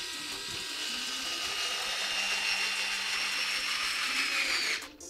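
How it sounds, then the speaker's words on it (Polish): A Xiaomi Mi cordless electric screwdriver drives a screw into chipboard, giving a steady, close motor whine that runs for about five seconds before stopping abruptly at the end. "Wkręcę i wykręcę najpierw wkręta z płyty wiórowej, a później zrobimy to samo w drewnie."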